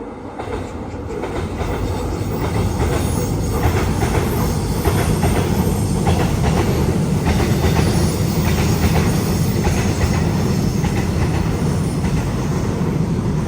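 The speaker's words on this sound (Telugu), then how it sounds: "ట్రైన్ వస్తున్నట్టుంది చూడండి సౌండ్ వస్తుంది" A Seoul metro train rumbles steadily and loudly, a continuous rail roar with faint wheel clatter that builds over the first couple of seconds and then holds close as the cars pass.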